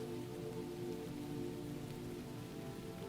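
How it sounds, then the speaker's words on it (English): Steady rain falls against weathered stone walls on a stormy night by a seaside lighthouse, an even, continuous patter with no voices. "the rain falls steadily against weathered stone walls"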